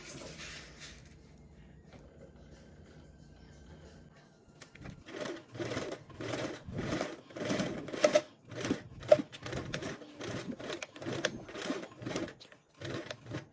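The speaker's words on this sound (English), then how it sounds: "now we are going to go ahead and sew our dividing line" A sewing machine stitches a dividing line on a sewing project, starting after a quiet few seconds of low noise, then running in close, rapid bursts of rhythmic stitching with short pauses between runs.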